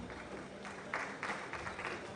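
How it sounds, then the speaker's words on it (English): An audience at a university blockchain conference breaks into applause, a steady wash of clapping with a few louder bursts, fairly close and continuous. "A round of applause for her."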